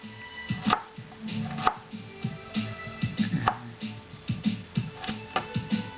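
A knife slices garlic on a cutting board, making a run of sharp, close taps in an uneven rhythm, with a voice speaking in the background.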